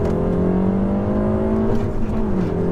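A Peugeot 308 GTI stage 2 tuned to about 300 bhp pulls hard from inside the cabin, its engine droning loudly and climbing in pitch steadily, with a slight dip as it shifts and lurches.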